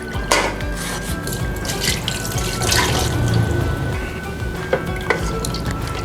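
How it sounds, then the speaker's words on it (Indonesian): Tap water running into a wok to rinse off leftover spices, a steady close splashing stream with drips and scraping squishes as the pan is washed, with no talk. "Kita mau bilas wajannya supaya tidak ada bumbu yang tertinggal di sini."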